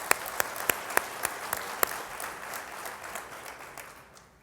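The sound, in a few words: audience round of applause for young leaders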